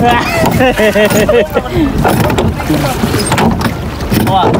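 Water sloshes and splashes against a small rowing boat as it moves along, with people talking and calling out over the wind, in Arashiyama, Kyoto, Japan.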